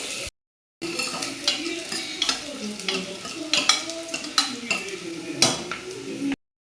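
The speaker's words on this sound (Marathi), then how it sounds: "मी कांदे टाकून घेते आता। हे बघा, तेलामध्ये चांगला परतून घेते" Onions sauté in oil in a pan for mutton korma, a close, steady sizzle broken by repeated scraping and clinking stirs, after a brief silent gap at the start.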